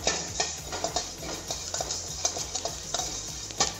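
Cinnamon and cloves fry in a pan while a utensil stirs them, giving a steady frying hiss with regular light taps and scrapes, close and continuous.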